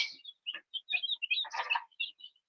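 New backyard chickens, olive eggers and Rhode Island Reds, chirp in a string of short, bright peeping calls that come close together, steady and fairly near with no one talking.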